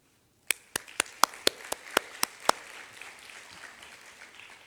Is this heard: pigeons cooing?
no